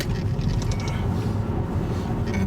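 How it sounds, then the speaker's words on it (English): A vehicle on the Labrador Coastal Road rumbles over potholes, giving a continuous loud rattling and thumping from the cabin with scattered creaks. "What you hear are potholes."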